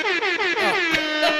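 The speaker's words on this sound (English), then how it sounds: "That's the air horn." A loud air horn blasts close up as a sound effect, with a wavering multi-tone honk that swoops and pulses for over a second, ending in a short final burst.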